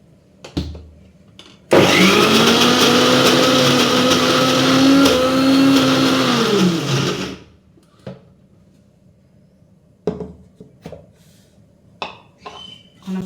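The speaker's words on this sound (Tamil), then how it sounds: "நம்ம வடைக்கு அவ்வளோதான் அரைச்சாச்சு." A mixer grinder whirs loudly for about six seconds grinding vada batter, a strong steady motor roar that starts abruptly and winds down, framed by brief clunks and handling knocks before and after.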